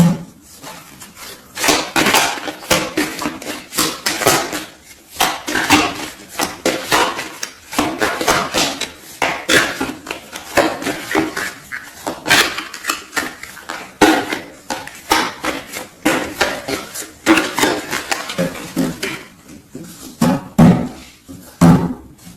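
Tarot cards shuffled and cut by hand, a long run of quick papery riffles and soft slaps repeating steadily, close and fairly loud with no talking.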